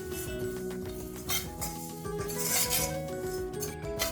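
Oats dry roasting in a pan for diabetic dosai batter, heard as a steady close scraping and rustling with light metallic clinks of a spatula against the pan, no talk.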